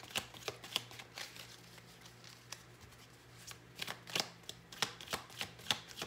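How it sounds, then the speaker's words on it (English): Guardian angel oracle cards are shuffled close by in soft riffling bursts and sharp taps, irregular and fairly quiet against a low background hum. "let's pull some guardian angel cards to close out your reading"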